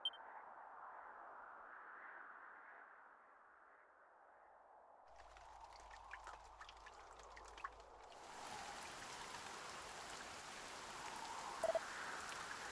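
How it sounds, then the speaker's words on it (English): Rain falls in Dragon Quest I HD-2D Remake, a soft steady hiss of rainfall that swells fuller and brighter partway through, with no voices present. "Oh, the rain doth fall, and soon enough the sun too shall fade."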